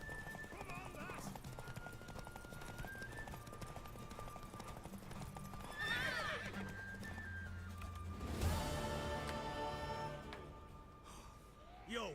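A horse in the Witcher 3 video game, hooves clip-clopping steadily at close range with a whinny, while characters talk over the sounds and soft game music plays beneath.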